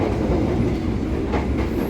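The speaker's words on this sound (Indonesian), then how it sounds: "kereta api Harina ini telah diberangkatkan dari stasiun Bandung ya" Harina economy premium passenger train running on rails after departing Bandung station: a steady, loud, continuous rumble and roar with faint rhythmic clatter, heard from inside with no voices.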